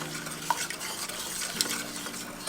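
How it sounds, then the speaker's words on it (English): A whisk stirs a sugar sauce in a pan over high heat, with continuous swishing over a light sizzle and two sharp metallic clinks against the pan. "I'm just gonna whisk it and stir it around on a high heat until the sugar dissolves"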